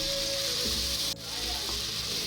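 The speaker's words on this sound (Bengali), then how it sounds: "আদা রসুন কাঁচা লঙ্কা দিয়ে একটা পেস্ট করে রেখেছিলাম তো সেই মশলাটা আমি দিয়ে ভালো করে এখন কষিয়ে নিচ্ছি" A ginger, garlic and green chili paste sautés with onions in a pan, giving a loud, continuous close-up sizzle with a brief dip partway through.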